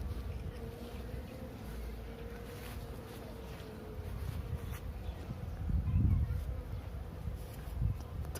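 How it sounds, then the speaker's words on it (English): Bees buzzing in the sun on a mild 12°C day along a Tokyo walk, a faint, steady insect drone under low outdoor rumble, swelling briefly near the end as one passes close. "these bees are really buzzing"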